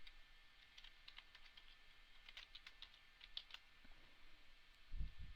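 Typing on a computer keyboard, quiet rapid clusters of key clicks in an irregular rhythm, close and soft, with a faint low thump near the end and no talking.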